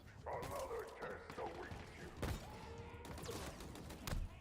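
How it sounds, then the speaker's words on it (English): A yapping, bark-like alarm blares in Halo Infinite, repeating continuously over game gunfire and explosions while a player talks over it. "It sounds like a dog barking, that alarm."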